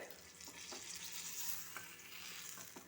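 Jackfruit pieces fry in hot oil with a steady, dense sizzle while a spoon stirs them through the pan, adding a few light scraping knocks; no one speaks.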